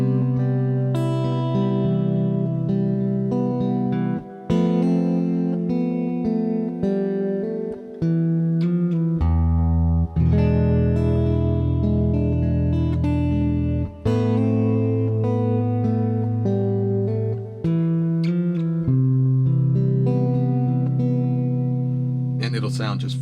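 Arpeggiated piano-style chords from a song, played loud and sustained with low bass notes and rippling upper notes shifting through several chord changes, with no talking.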